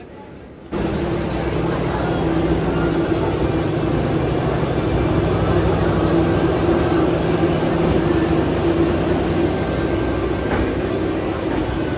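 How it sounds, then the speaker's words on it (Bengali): The Darjeeling Mail passenger train running at night, a loud steady rumble and rattle heard from inside the carriage, starting abruptly after a quieter moment and continuing without break. "রাতের অন্ধকারে ট্রেন আস্তে আস্তে ছুটে চলেছে তার গন্তব্যে"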